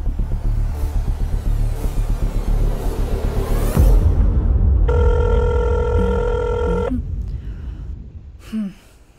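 A telephone rings once with a sustained electronic tone lasting about two seconds. It follows a stretch of low, rumbling vehicle-like noise and then stops.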